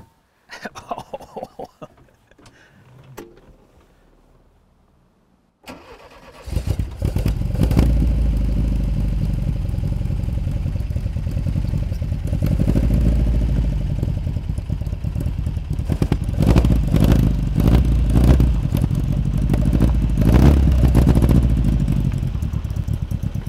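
A car engine idles then runs loud and steady, revving to around 6,000 to 7,000 rpm with rising surges and mechanical clatter, close by; brief faint sounds precede it.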